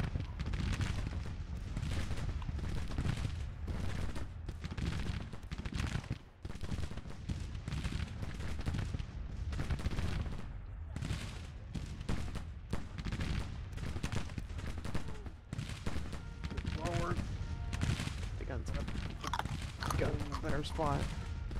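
Artillery and gunfire from a Civil War strategy video game, heard as dense, continuous rumbling booms and crackling volleys over the whole stretch, with a person talking through parts of it.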